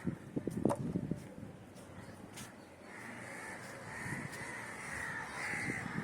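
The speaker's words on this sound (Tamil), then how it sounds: "காக்கா பாருங்களேன் எவ்வளோ இருக்குதுன்னுப்பா. நம்ம வந்தாலே வந்துடுதுங்க காக்கா." Several crows caw on a sun-baked rooftop garden of wilting plants, a cluster of sharp, close calls early on, then steady cawing carrying on in the background.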